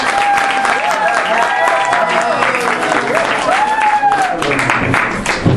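Congregation applauding and cheering for the Lord at a birthday celebration for a church apostle, a dense, steady wash of clapping and voices with a sustained, melodic cry rising above it throughout.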